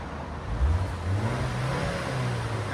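2024 BMW X1 M35i 2.0L turbo four-cylinder with stock exhaust in sport mode, a low steady engine drone with a brief rev swell, fairly quiet and muffled.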